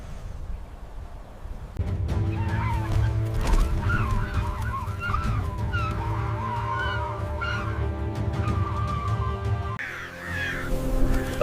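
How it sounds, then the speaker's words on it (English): Crows call repeatedly above a sunny pasture alive with grasshoppers, their harsh caws overlapping over a steady outdoor background hum. "kites and crows twist and dive in a aerial scrum"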